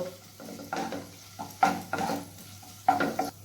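Chopped garlic and ginger frying in a pan while being stirred and scraped for mutton keema tadka. Irregular bursts of spatula scraping and clatter over a low sizzle, close up, with no talking.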